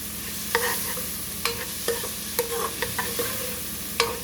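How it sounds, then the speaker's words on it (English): Vegetables softening in a pot for oyster stew give a steady sizzle, broken by repeated metal spoon scrapes and taps every half second or so, close and unaccompanied by speech. "You just want to saute it down"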